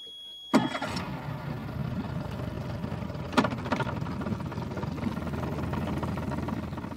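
A boat engine on a Cooper Creek billabong in the Australian wetlands fires up with a sudden loud start, then settles into a steady, close, rumbling idle with a second brief surge midway.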